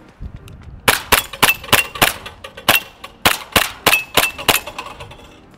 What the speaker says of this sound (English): Time to shoot off some more shots.